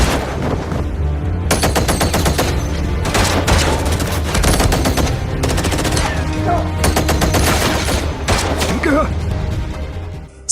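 Rapid bursts of machine-gun fire and scattered gunshots crackle through a mafia shootout in an action film, loud and sustained in several volleys over a dense soundtrack, with brief voices mixed in.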